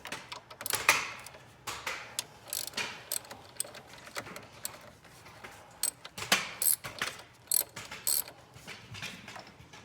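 Ratcheting wrench loosening long bolts on a 2013 Mustang GT, quick repeated clicking strokes in bursts, close and fairly loud with no talk.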